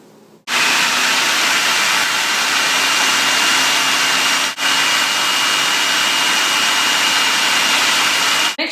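A kitchen blender shreds raw spinach leaves with a loud, steady high-pitched whir that starts abruptly, dips once briefly midway, and runs on close up without any talking.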